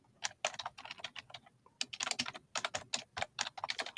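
Rapid, uneven typing on a computer keyboard, with quick clusters of close, crisp key clicks and one short pause near the middle.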